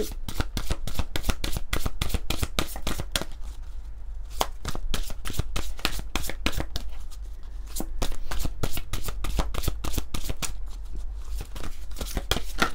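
Oracle cards being shuffled by hand, a dense run of quick papery riffles and slaps that keeps up steadily and close for the whole stretch, with no talking.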